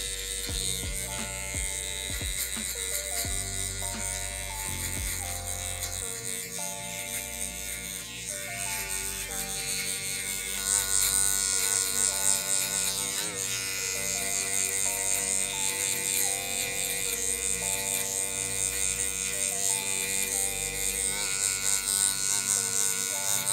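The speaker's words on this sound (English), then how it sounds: "Again, with the taper blade, I put it in the fully open position, and we're gonna scoop out" Electric hair clippers with a taper blade set fully open buzz continuously while cutting a low fade, a steady close motor drone with shifting tone as the blade moves through hair, with no talk over it.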